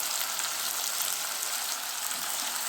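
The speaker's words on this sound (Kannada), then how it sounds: "ಇದರಲ್ಲೇ ನಾನು ಬದನೆಕಾಯಿ ಹಾಕ್ಕೊತಿದ್ದೀನಿ ಎಣ್ಣೆಯಲ್ಲಿ ಬದನೆಕಾಯಿನ ಚೆನ್ನಾಗಿ ಹುರ್ಕೊಂಡ್ರೆ ಚೆನ್ನಾಗಿರುತ್ತೆ" Brinjal pieces frying in oil in a pan, a steady, close, bright hiss and crackle throughout with no talk.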